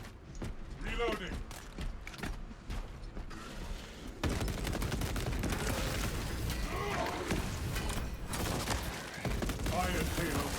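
Heavy bolt rifle fire in Space Marine 2 from a Techmarine heavy, with mechanical clicks and creaks mixed in: several rapid loud bursts over dense battle noise that carries on steadily to the end.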